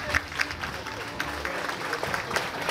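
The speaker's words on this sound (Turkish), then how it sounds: "Sizlere de büyük bir alkış." Moderate applause from a gathered audience at a dental clinic branch opening and album launch event in Istanbul, the claps soft and scattered, with voices speaking underneath.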